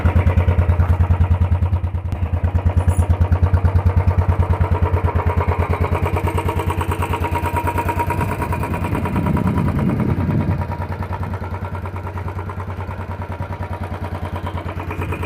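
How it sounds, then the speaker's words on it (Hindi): Stock 2022 Royal Enfield Standard 350 BS6 single-cylinder motorcycle idling close by, a steady rhythmic thump with light mechanical clatter that holds even for the whole stretch, with no talking. "कुछ ऐसे की साउंड रहेगी हमारी स्टैंडर्ड की 2022 मॉडल"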